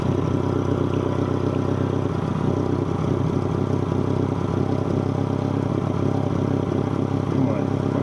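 A 1996 Geo Tracker engine runs at a steady idle with a constant, close mechanical drone and light clatter, and a voice talks over it.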